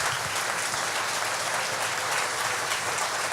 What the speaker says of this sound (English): please give them a round of applause for what they do